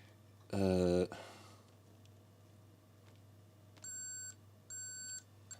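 Short electronic beeps from a multimeter testing a repaired keyboard switch on an Apple II Europlus, two brief tones in a quiet room after a louder burst of handling noise.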